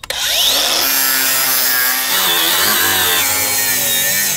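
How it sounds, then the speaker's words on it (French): An angle grinder cuts into render on a building facade, giving a loud, continuous high-pitched whine that rises as the disc bites in, then holds a steady grinding roar close up with no talk throughout. "Découpe avec la meuleuse d'angle."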